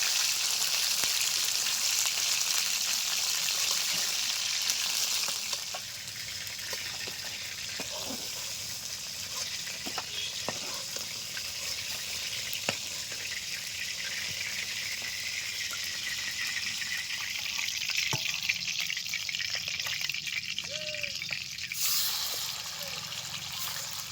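Chicken pieces frying in hot oil for a potato chicken curry give off a steady bright sizzle, loudest at first and then settling into a softer hiss with scattered pops and crackles.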